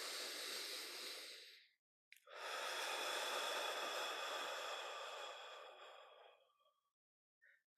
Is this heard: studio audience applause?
no